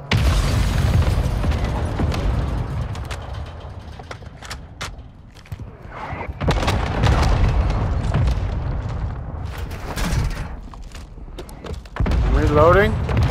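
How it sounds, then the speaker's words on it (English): A mortar strike explodes in Call of Duty: Modern Warfare II, with heavy booming blasts and rumbling detonations running through the clip, loud and close under game noise and players talking. "I got mortar striked."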